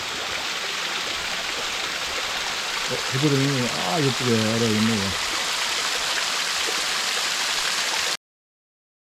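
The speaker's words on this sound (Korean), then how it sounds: "대진산 계곡의 물소리입니다." Continuous broadband rush of a flowing mountain stream in a Daedunsan valley in winter snow, steady and close, with someone briefly speaking over it midway.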